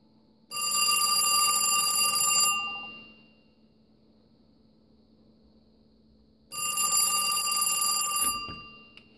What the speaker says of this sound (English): now we're going to call the French style phone